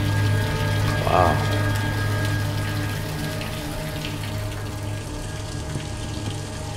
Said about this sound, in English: Drip water everywhere.